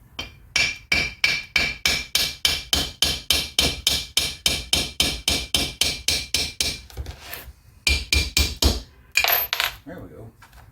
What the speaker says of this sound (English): I couldn't find my little brass hammer, but I've got this aluminum one here